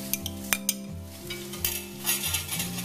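Moong dal stirred and lightly roasted in desi ghee in a pan for halwa, a soft sizzle with scraping spoon strokes and a few metallic clinks against the pan, close by.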